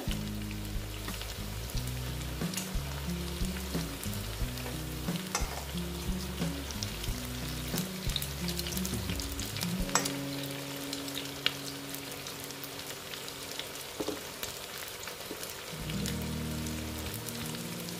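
Flattened rice and potato fritters frying in oil, a continuous crackling sizzle with dense popping throughout, accompanied by repeated low thumps and rumbles from a pan or stove, no voices.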